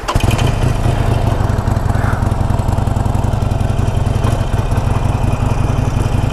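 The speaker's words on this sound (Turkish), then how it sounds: "Motosikleti hemen sürmeye başlayalım." A motorcycle engine idles loudly and steadily close by, a rough low rumble with a rapid pulsing throb and no talking.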